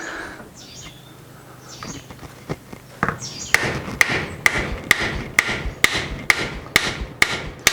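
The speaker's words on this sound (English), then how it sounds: "I'm hitting the screwdriver now, so shouldn't do it any much harm." Sharp metallic hammer blows strike a screwdriver on the engine of a 20-year-old Bedford CA van, about ten evenly spaced close knocks after a quieter stretch of background shuffling.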